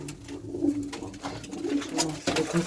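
Tumbler pigeons coo in low, throaty, rolling calls, several overlapping phrases close by over a light background hum.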